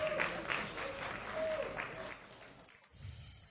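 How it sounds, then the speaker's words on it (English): A conference audience claps in steady applause that fades out after a couple of seconds, followed by a short murmur of voices. "A round of applause for him,"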